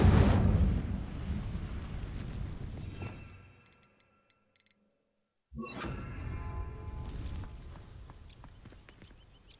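An Incendio fire spell is cast in a Hogwarts video game: a loud whooshing burst of flame that fades, then a brief silence before another rushing fiery roar returns and slowly tails off.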